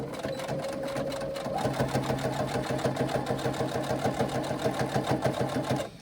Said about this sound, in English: what I now like to do is do a second seam right next to that to give it some extra strength